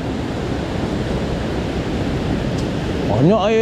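Water rushes continuously through a broken embankment that has been breached for a week, a loud, close, broadband roar. A voice comes in briefly near the end.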